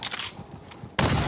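Enemy gunfire in Borderlands 3, a burst of rapid shots with scrapes and steps, closing with a loud sudden blast of noise, no talk.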